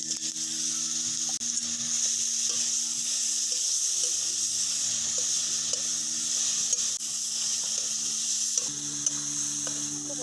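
Wood apple pieces fry in mustard oil tempered with bay leaf, dried red chilli and whole fennel, giving a continuous close sizzle with faint scraping from stirring over low heat.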